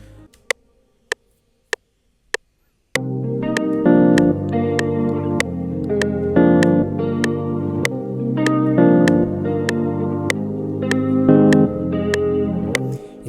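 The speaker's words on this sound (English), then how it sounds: "we're going to be using the jazz guitar for this particular sound" A jazz guitar patch from the FLEX plugin in FL Studio, part of an Afrobeats beat: a few sparse plucked notes open, then a steady rhythmic run of chords with echo and chorus effects, loud and without talk.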